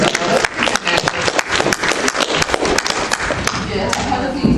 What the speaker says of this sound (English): Can I just give a round of applause to these people coming up and bravely reading this book?